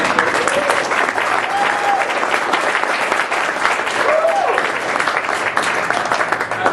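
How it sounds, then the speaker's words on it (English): An audience at a search marketing meetup claps steadily, a dense, sustained round of applause with scattered voices mixed in. "how about one more round of applause for everything we said?"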